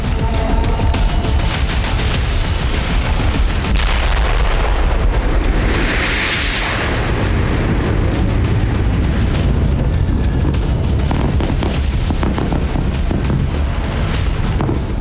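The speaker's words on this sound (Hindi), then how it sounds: "इजरायली वायुसेना ऐसे तबाही बम फोड़ रही है जिसका एक धमाका बड़ी तबाही मचा" Dense, heavy rumbling blasts from MK-84 bombs dropped by the Israeli Air Force roll on continuously, with booming explosions and crackling debris filling the whole stretch, loud and close.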